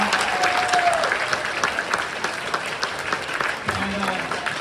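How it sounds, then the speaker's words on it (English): An audience claps for the presenters at a talk event on carbon removal, a full, sustained round of applause with some crowd murmur and a brief voice underneath. "Can we just give everybody that presented today a round of applause?"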